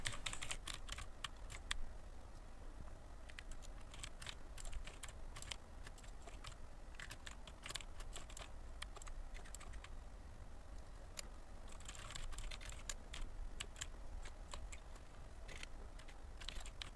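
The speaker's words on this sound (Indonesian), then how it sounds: "Nah, langsung aja saya ketikkan." Code being typed on a computer keyboard for a data structures assignment in Eclipse, a steady run of rapid key clicks with brief pauses, close and continuous throughout.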